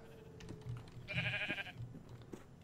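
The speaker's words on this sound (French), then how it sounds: "j'essaie de donner à manger au mouton" A sheep in the Minecraft video game lets out a short bleat at moderate volume, with soft keyboard clicks and faint game sounds around it.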